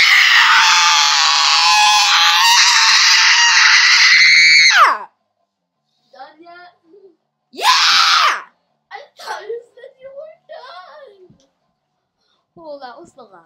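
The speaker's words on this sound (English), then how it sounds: "Oh, that was the loudest scream" A very loud, sustained human scream lasting several seconds, shrill and strained, then breaking off into a second short shriek and bursts of breathy talking and gasping.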